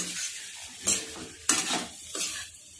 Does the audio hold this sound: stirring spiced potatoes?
yes